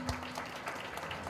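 An audience at a company recognition ceremony applauds an honoree, a faint, distant, continuous patter of many hands clapping with no voices over it.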